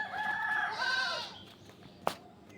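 A hen and rooster at a rural home give a faint, wavering clucking crow that rises and trails off, followed by a brief sharp knock; a goat is also nearby.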